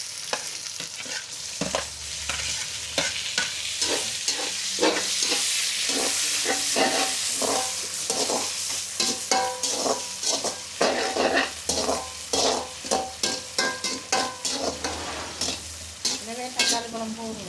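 Tomatoes sizzle and fry in a pan over a clay stove while a spoon scrapes and stirs them in quick, repeated strokes, the sputtering steady and close throughout with no talking.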